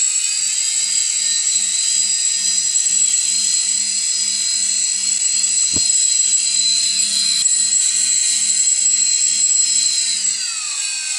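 Drone motors on a test rig whine steadily at high pitch as the throttle is adjusted, their tone sliding downward toward the end; loud and close, with a faint periodic ticking underneath and one sharp click midway, no voices.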